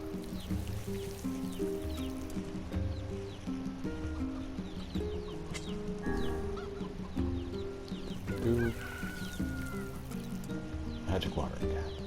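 Chickens clucking in the video game NieR Replicant, a steady run of fowl calls and clucks layered over game music and ambience, with someone talking over much of it.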